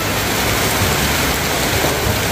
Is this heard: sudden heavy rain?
yes